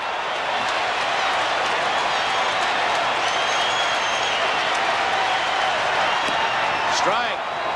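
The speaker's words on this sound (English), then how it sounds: "Crowd really reacting. They really come to life." A stadium crowd at Game 6 of the 1978 World Series, Yankees at Dodgers, roars in a broad, steady wash of cheering and clapping, loud and continuous, with a broadcaster talking over it.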